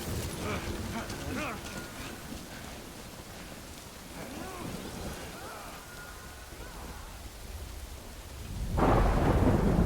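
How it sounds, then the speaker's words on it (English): Steady rain with rolling thunder in the Death Stranding video game, the rumble building in waves before a loud close crack near the end, with a voice speaking over the storm. "Good thing it was raining."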